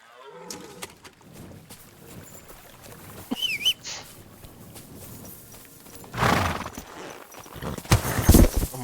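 A horse in Kingdom Come Deliverance 2 gallops with a rhythmic clip-clop of hooves that grows louder and heavier toward the end, joined by a whinny and ambient game sounds, with no talk.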